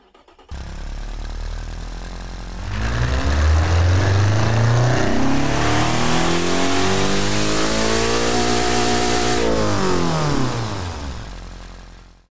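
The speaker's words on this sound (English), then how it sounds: "let's give you a listen of what this powerful yet terrible engine sounds right here" A powerful but rough hatchback engine in a driving game starts, idles at 1300 RPM, then revs up steadily and holds high before dropping back, loud and close with no talking.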